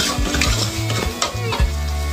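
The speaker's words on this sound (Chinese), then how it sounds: "炒一下啊" Handmade fried rice stir-fried in a pan: close, steady sizzling with repeated scraping and clinks of a utensil against the pan, no talking.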